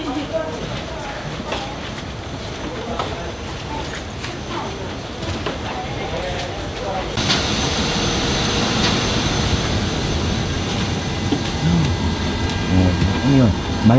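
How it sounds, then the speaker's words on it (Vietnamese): Jet engine hum surrounds passengers boarding a Vietnam Airlines flight, a steady whine and rumble that grows louder partway through, with people talking over it. "Máy bay này lớn quá."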